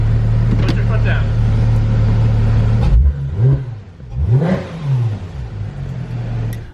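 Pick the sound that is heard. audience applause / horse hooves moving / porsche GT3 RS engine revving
porsche GT3 RS engine revving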